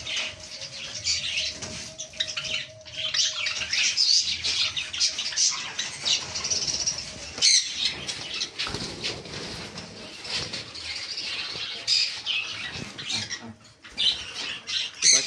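Pet cockatiels and finches in a bird shop keep up dense, continuous chirping and sharp squawks, with occasional wing flutters, busy and fairly close throughout, no talk.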